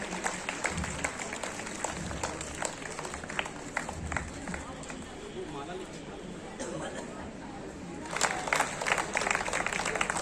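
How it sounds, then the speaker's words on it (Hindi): An audience at a national education seminar claps steadily to welcome the manager. The applause swells again near the end, and a crowd murmurs underneath it. "तालियों के साथ आप सभी स्वागत करें"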